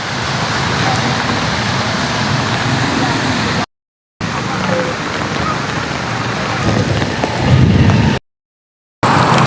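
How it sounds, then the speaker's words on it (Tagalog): Heavy rain pours in a loud, continuous roar during a storm in Montalban, broken by two short silent gaps. "Meron yata bagyo yun, lakas ng ulan."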